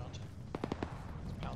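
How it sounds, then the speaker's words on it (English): Cannon fire from a tank in a military combat game: a quick series of four sharp, punchy blasts in close succession, heard at moderate distance over steady low background rumble. "Tank shot."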